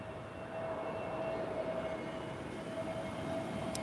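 Airbus A320 of the Azores airline heard from a Lisbon spotting spot, a steady broad jet engine roar holding at a constant loud level with a faint whine running through it.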